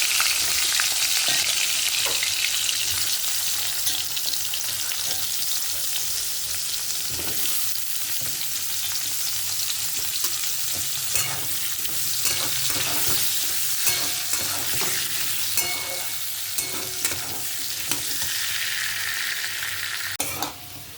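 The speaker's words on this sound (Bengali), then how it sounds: "এবার এর মধ্যে আলুগুলো, কেটে রাখা আলুগুলো ভেজে নেব।" Cut potatoes frying in hot oil in a wok: a loud, continuous sizzle runs throughout, broken up by scraping and clinking as the pieces are stirred. The sound is close and steady, with no talk.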